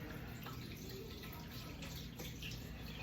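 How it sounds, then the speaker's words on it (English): Running water from a tap washes a dirty chicken egg, a steady, fairly faint rushing splash with no talk over it. "I'm gonna wash this egg."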